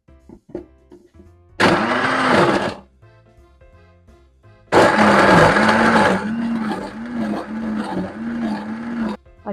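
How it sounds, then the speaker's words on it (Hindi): A blender grinding gond katira lassi with lots of ice cubes, two loud bursts of whirring motor with rattling ice, a short first run then a longer one that eases slightly. "तो अब इसको करते हैं ग्राइंड।"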